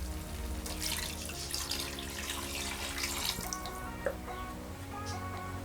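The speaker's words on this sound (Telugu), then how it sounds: "ఇప్పుడు దీంట్లోనే మనం కొంచెం వాటర్ వేసుకుందాం" Water splashes and trickles steadily into a pan of egg masala curry cooking on the stove, a continuous soft pour with small drips, and no one speaking.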